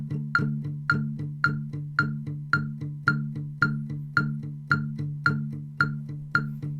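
An electric guitar plays the palm-muted power-chord intro of a song: a steady run of short, chugging chords struck evenly, about two per second, close and alone.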